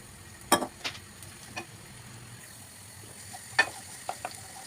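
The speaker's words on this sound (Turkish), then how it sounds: "ve yağımı, tavama attım soğanlarımı" Onions frying in oil in a pan, a low steady sizzle punctuated by a few sharp clicks and taps of utensils against the cookware, moderately close with no talking.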